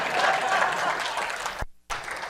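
Steady applause from an audience at a congressional campaign speech fills the clip, dense and continuous, with a brief sharp break near the end before the clapping resumes.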